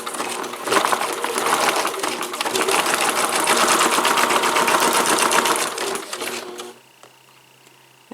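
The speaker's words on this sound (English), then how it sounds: "I'm going to back stitch it by reversing." Sewing machine stitching through journal pages, a fast even mechanical chatter running for several seconds, then slowing and stopping as it reverses for a back stitch, leaving quiet room tone.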